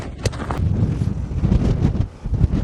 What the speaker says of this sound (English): It's dark and it's about 35 mile/hour gusts now.